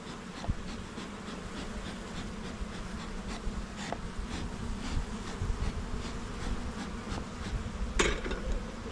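Honeybees from a newly installed nuc hum and buzz steadily around an opened hive, a dense close drone with individual bees zipping past the microphone now and then.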